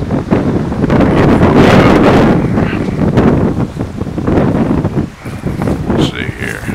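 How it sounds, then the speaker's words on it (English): Strong gusting wind roars steadily into the microphone at an outdoor wind turbine setup with a Windmax HY 500 watt 24 volt turbine in southern Virginia, a loud continuous buffeting that dips briefly before picking back up. "Wind's blowing out of north northwest."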